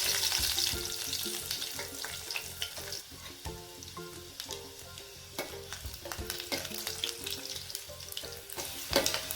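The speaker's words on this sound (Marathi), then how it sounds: "तेल गरम झाल्यानंतर आपण त्यात एक चमचा मोहरी घालणार आहे" Mustard seeds and garlic cloves frying in hot oil for a fresh rajma curry, a dense steady sizzle with sharp crackling pops and spits throughout, close and loud with no voices.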